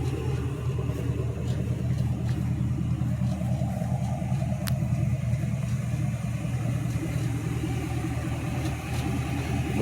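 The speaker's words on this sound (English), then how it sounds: "Borla exhaust. The only way to go." A Pearce Bomber-chassis race car fitted with a Borla exhaust rumbles in a low, steady throb, mostly an even idle with little obvious revving, heard fairly close throughout.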